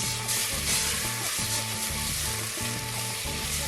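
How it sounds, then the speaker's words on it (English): Onions fry in hot oil in a pan while being stirred, giving a steady, dense sizzle with soft scraping of the spoon, close and continuous without any talking. "Then we're going to add our onions and stir to make sure they get all coated with the oil."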